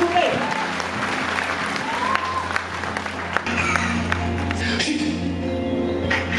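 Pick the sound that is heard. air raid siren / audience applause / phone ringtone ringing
audience applause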